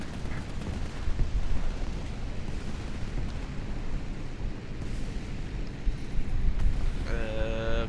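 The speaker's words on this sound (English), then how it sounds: "God, artillery strike, let's hope it doesn't get me." Artillery strike explosions in the combat video game War Thunder, a dense, loud rolling rumble of distant blasts that persists throughout, with a brief whine-like tone near the end.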